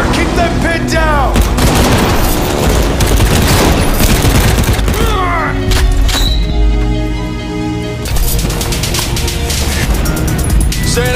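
Dense gunfire from rifles and machine guns crackles in a World War Heroes team deathmatch, broken by booming explosions, loud and continuous for the whole stretch, with brief shouted voices mixed in.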